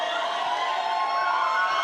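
Tennis crowd at the Australian Open cheers and roars at night, a dense, loud wall of shouting and whistles that holds steady without letting up, no single voice standing out.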